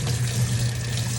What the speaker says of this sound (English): And then turn your water back on